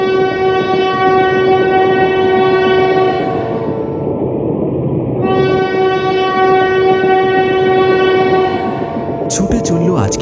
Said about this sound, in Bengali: ঠিক তখনই ট্রেন আসার শব্দ তার কানে ভেসে এলো।